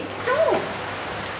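Steady rain hisses outdoors as a continuous soft wash, with a brief exclaiming voice briefly rising over it.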